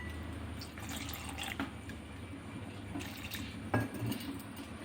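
Water is poured into a cooking pan holding garlic and onion, giving close splashing and trickling with a few sharper clinks and splashes along the way; no one speaks.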